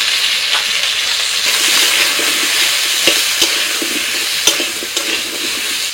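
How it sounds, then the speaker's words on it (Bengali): Pointed gourd pieces seasoned with salt and turmeric frying in a pan give a loud, steady, close sizzle that runs throughout, with a few sharper pops near the end and no voices. "পটলগুলো ভাজা হয়ে গেছে।"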